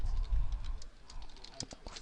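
Light tapping on a computer keyboard, a sparse handful of soft, quick key clicks at close range over a low background hum.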